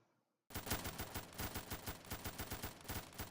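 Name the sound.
MP40 gunfire in a Minecraft Factions video game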